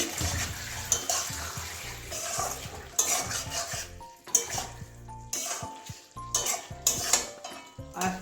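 A spoon works through bean and potato curry in a pan, giving repeated close scraping and clinking strokes with short pauses and a soft sizzle underneath.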